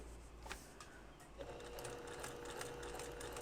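A sewing machine runs a small straight stitch, its quiet, steady mechanical whir continuous and close with a faint hum underneath, no voices present.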